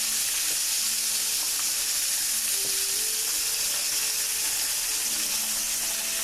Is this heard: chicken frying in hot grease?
yes